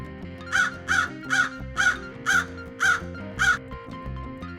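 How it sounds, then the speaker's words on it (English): Crow cawing, seven loud harsh caws in an even, steady rhythm, close and clear with nothing else behind. "Crow."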